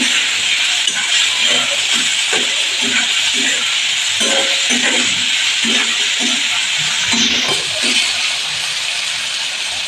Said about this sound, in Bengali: মশলাটাকে এবার ভাজবো।